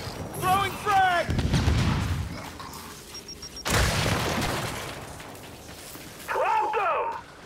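A frag grenade going off during a Gears 5 Horde match, with two heavy, rumbling booms about two seconds apart. Brief in-game character callouts come just before and after.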